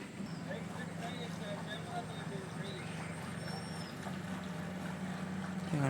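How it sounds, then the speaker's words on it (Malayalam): A boat moving along the water under the Alappuzha Padaharam bridge, its steady engine drone running throughout with chirps and voices in the background, growing slightly louder toward the end. "അതേ ബോട്ട് പാലത്തിനടിയിൽ കൂടെ ദാ പോയി"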